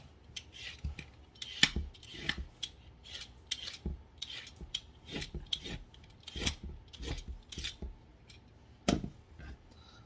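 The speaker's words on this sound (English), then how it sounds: "Gonna do a quick peel on them." Carrots peeled for homemade chicken stock, a rapid series of crisp scraping strokes close by, repeated irregularly for about ten seconds with short pauses and no voices.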